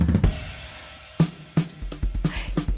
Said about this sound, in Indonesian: Pasti tahu ya, itu suara drum.